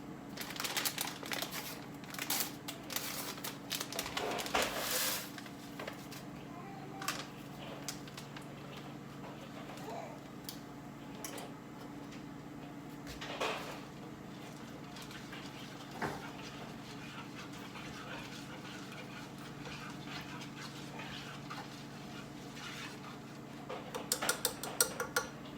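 Parmesan fettuccine is tossed in a pan with a utensil, giving faint, scattered light clinks and scrapes that are quiet and intermittent, with a slightly busier flurry near the end.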